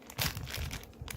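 A sealed plastic biscuit packet is torn open by hand, with close crinkling and ripping of the wrapper in a quick, uneven run of rustles.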